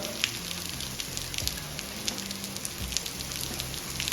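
Steady dense patter of rain falling, a continuous wash of hiss with scattered sharper drops, fairly close and even throughout, no voices.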